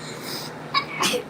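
A single short sneeze, close and fairly loud, cuts sharply through a quiet room during a live tarot reading stream.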